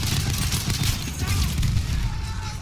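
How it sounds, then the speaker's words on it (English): Frag grenades burst repeatedly during a Battlefield 1 firefight, loud booms and crackling gunfire packed closely together amid chaotic battle noise, with a player's voice talking over the action. "Holy crap, where are these grenades popping off from?"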